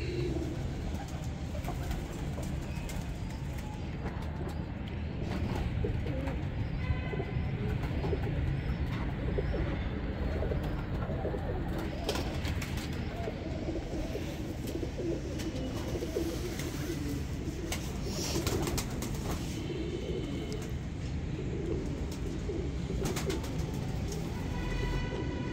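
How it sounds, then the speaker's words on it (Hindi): Pigeons coo in a loft, soft repeated calls over a constant dense background hum, with a few brighter chirps and clicks scattered through. "उम्मीद है कि ये कबूतर आपको सबसे ज्यादा पसंद आएगा"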